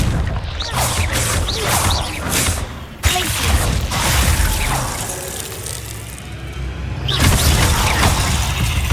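A Confringo spell blast from the video game Hogwarts Legacy crackles and booms loudly. It is followed by rumbling debris and a second sharp burst near the end.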